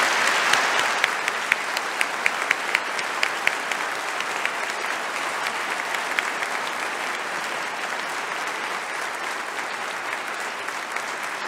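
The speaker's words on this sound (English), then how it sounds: "Would you please applaud Don for me?" An audience at a South Dakota governor's inauguration address claps in sustained applause, dense and steady, with sharper individual claps standing out early before the ovation settles into an even wash.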